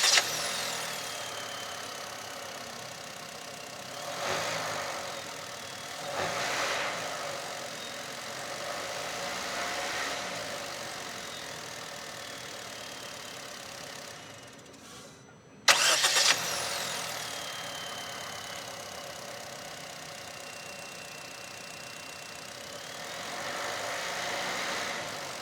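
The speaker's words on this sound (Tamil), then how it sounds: "இப்போ இந்த என்ஜினோட ரிஃபைன்மெண்ட் லெவல்ஸ் எப்படி இருக்குது அப்படின்றத நம்ம என்ஜினை ஸ்டார்ட் பண்ணி பார்க்கலாம்." A Honda Amaze VX sedan's engine starts and runs at a smooth, quiet idle, then shuts off and is restarted, with the hum rising and falling softly through a long stretch without speech.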